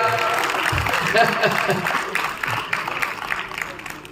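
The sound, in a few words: applause, audience clapping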